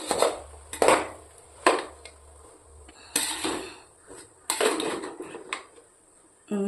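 A spoon stirs rice into tomato rice in a metal pot, making several loud scraping and clanking strokes at uneven intervals, close by with no talk.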